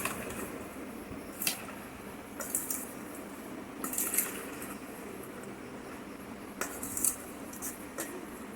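Boiled chickpeas are mixed with chopped onion and chanachur in a bowl, the spoon giving intermittent clinks and scrapes against the bowl over soft, moist squishing.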